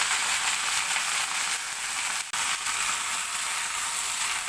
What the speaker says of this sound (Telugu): ఒక 1 స్పూను ఆయిల్ యాడ్ చేసుకుని గోంగూర ఫ్రై చేసుకుందాం